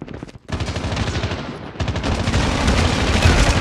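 Rapid automatic gunfire in the mobile shooter Call of Duty Mobile, loud sustained bursts of overlapping shots after a brief pause, dense and close.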